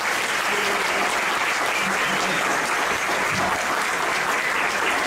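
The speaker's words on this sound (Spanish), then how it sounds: "Fuertes palmas, por favor." An audience at a university lecture applauds with loud, steady clapping that fills the whole stretch without letting up.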